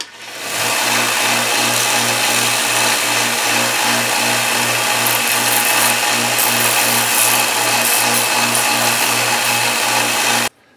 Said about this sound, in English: Back to the bandsaw,